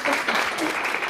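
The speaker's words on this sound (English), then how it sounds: "Let's give her a great round of applause." An audience at a business seminar breaks into a brief, full burst of applause, loud and close, with a voice faintly present beneath the clapping.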